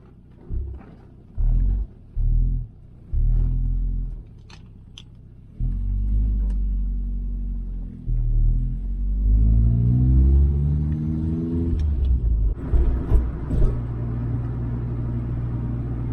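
A car engine starts with a few short bursts, then settles into a steady low rumble that rises as the vehicle pulls away and drives on.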